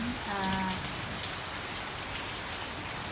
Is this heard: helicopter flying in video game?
no